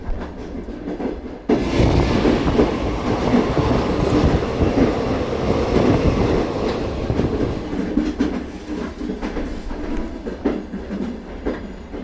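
Passenger train with chair-type seats running on rails toward Kanyakumari, heard from inside as a loud, steady rumble and rattle of wheels on track that swells suddenly and holds throughout, with no talk.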